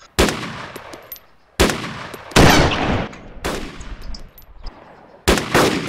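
M240 machine gun firing in the video game DayZ: several loud, sharp bursts of automatic gunfire with echoing tails, separated by short pauses, close and dominant with no talk.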